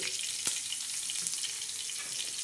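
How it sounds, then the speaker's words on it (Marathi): Garlic and cumin seeds crackle in hot oil after curry leaves, a steady bright sizzle with one sharp pop near the start, close and constant with no voices. "कढीपत्त्यानंतर आपण हा लसण आणि जिरे"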